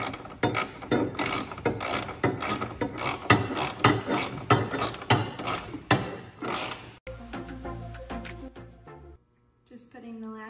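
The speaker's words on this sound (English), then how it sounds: "Just putting the last 3 screws in on each side." Screws being driven on a truck, a rapid rhythmic ratcheting clatter at close range for several seconds, then slower mechanical clicks and a brief pause; someone talks over parts of it.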